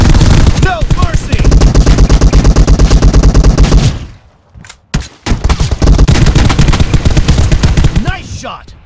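Scar-L rifle fire in the mobile game PUBG Mobile rattles out in long, loud automatic bursts, broken by a short pause and a few single shots before another sustained burst.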